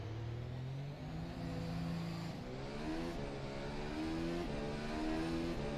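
An F1 2019 FSR car in rFactor 2 runs a lap of wet Baku on intermediate tyres, its engine droning steadily and rising through the gears in a continuous, loud whine with no pauses.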